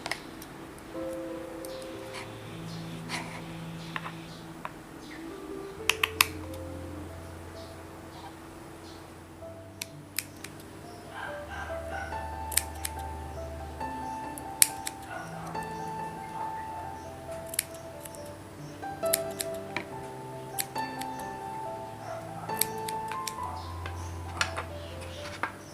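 Scissors snip and trim the edges of chenille wire pipe cleaner flowers, giving scattered small clicks and ticks over steady background music, with no talking.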